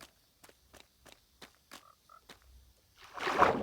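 A few short, evenly spaced frog croaks in Minecraft sound close by in quiet, followed by a burst of louder rustling noise at the end.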